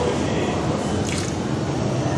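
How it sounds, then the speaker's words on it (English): Water is poured into a plate, giving a short, continuous splashing trickle up close for about two seconds with no talking over it. "First thing to do is pour water into the plate."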